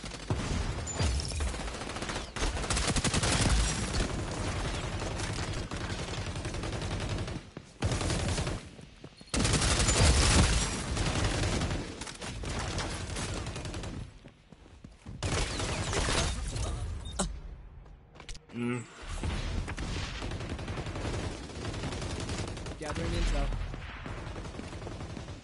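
Rapid gunfire rattles almost continuously through an XDefiant multiplayer match, loud bursts of automatic fire with brief gaps, while a voice speaks now and then over the shooting.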